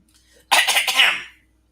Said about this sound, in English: It's a staged throat clearing